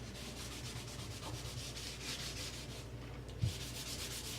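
Hand scrubbing of a kitchen sink gives a rhythmic abrasive rubbing, repeated close strokes at a steady pace with one brief knock near the end, no talking.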